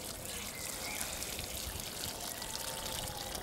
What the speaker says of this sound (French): Un très très bon arrosage.